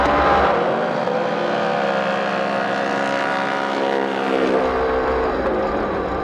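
Can-Am Maverick Turbo 1000 side-by-sides racing head-to-head on the short track at the Mint 400 desert race, a loud, steady roaring engine drone with rising revs, close and continuous throughout.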